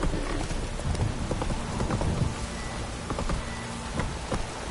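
Steady rain patters over a constant wet hiss in The Witcher 3: Wild Hunt, with rhythmic horse hoof clops plodding through the middle of the scene.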